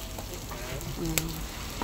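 Dried anchovies (buwad bulinaw) frying in hot oil in a pan, a steady close sizzle with a brief sharp crackle partway through.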